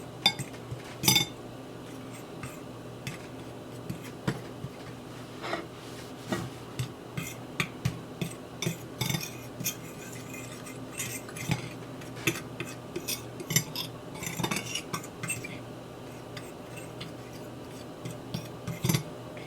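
Salted oyster mushrooms tossed and mixed in a bowl with utensils, giving a run of light clinks and scrapes that repeat in uneven bursts over steady low background hum, with no talking.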